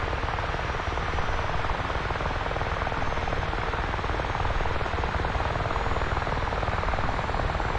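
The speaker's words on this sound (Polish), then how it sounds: "Tam Mi-24 startuje, jest trochę głośno, więc może zamknę jednak." Mi-24 helicopter starting up in the DCS flight simulator game, a steady loud rotor and turbine roar that holds continuously with no breaks or talk.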